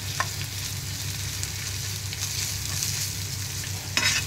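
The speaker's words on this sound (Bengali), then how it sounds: "তেলের মধ্যে রসুন আদা বাটাটাকে একটু ফ্রাই করে নিয়ে" Garlic and ginger paste frying in hot refined oil as a momo filling base, a steady close sizzle with occasional stirring scrapes and a sharper spatter near the end, no talking.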